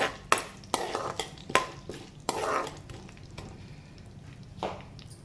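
Mustard seeds, cumin, chana dal and urad dal are stirred in a pan for tempering a cabbage potato curry, with a soft sizzle under sharp clinks of a spoon against the pan at irregular intervals.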